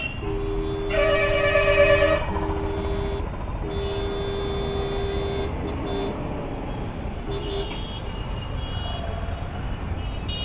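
A mobile phone rings loudly for about two seconds with an incoming call from the Ola ride app, then a fainter tone lingers under steady street traffic noise.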